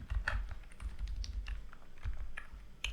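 Variable names being typed on a computer keyboard, a quick irregular run of light, close key clicks over a faint low background hum.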